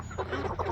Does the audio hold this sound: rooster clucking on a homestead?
yes